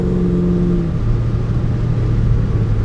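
A 1969 Maserati Ghibli 4.7 heard from inside while driving on the road: a steady, loud low engine drone whose pitch steps down once early on, then holds.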